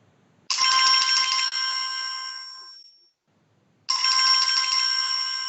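A telephone rings in two electronic bursts separated by a pause, loud, close and bright, with no talk over it.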